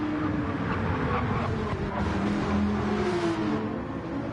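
Racing car engines, including a Porsche and a Viper, drone steadily down a straight in a sim racing game, a continuous mid-level roar with a slowly shifting pitch.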